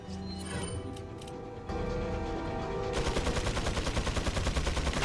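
Sustained minigun fire from a Resident Evil 4 enemy, a dense rapid rattle of shots that builds and runs continuously to the end, loud and close over game ambience.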